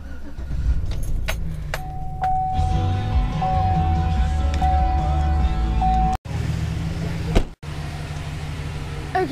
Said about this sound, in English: I'm just cranking the truck so I can get warm.